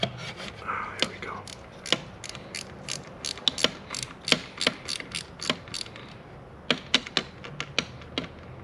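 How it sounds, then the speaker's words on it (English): A ratchet wrench loosening the driver seat bolts of a 1996 Chevrolet Impala SS, a close series of sharp clicking bursts with brief pauses between. "So I'm just taking these first bolt out."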